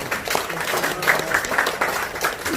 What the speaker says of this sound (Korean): 우리 다 함께 박수 한번 부탁드리겠습니다